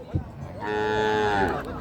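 A single cow lets out a long, drawn-out moo, close by and clear, amid the background bustle of a livestock market in Thailand.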